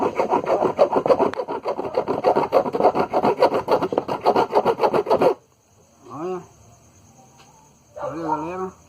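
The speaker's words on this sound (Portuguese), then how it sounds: "Aqui, eu tô começando a serrar ele aqui." An electrolytic capacitor being sawn open by hand gives a close, loud, rhythmic rasping of rapid back-and-forth strokes for about five seconds, then stops, and someone talks afterwards.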